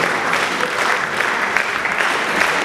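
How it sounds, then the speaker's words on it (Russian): A concert audience at a choral music performance applauds, a thick, continuous wash of many hands clapping at steady loudness throughout. "очень приятно слышать аплодисменты благодарных зрителей"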